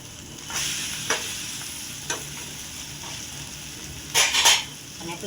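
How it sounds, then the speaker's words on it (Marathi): A bread and egg omelette fries in a pan after being flipped, giving a steady, close sizzle broken by a few sharp utensil taps and a brief scraping burst near the end. "आपण याला पलटी मारून घेऊया. बघा, छान असं क्रिस्पी भाजले"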